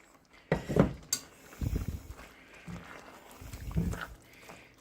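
Angel hair pasta is stirred into a gravy mixture in a pan, making several uneven scraping, clattering strokes of utensil against pan, close and moderately loud.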